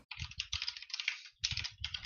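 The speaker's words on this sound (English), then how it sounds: "Listen to all that typing going on." A clicky computer keyboard being typed on, rapid bursts of bright clacking keystrokes with brief pauses between, close and clear with no talking.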